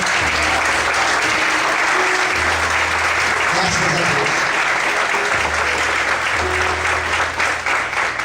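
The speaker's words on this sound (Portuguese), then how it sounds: "Vamos aplaudir ao Senhor nessa manhã." Church congregation applauding to the Lord during a morning service, loud sustained clapping from many people with a brief spoken phrase and low background tones underneath.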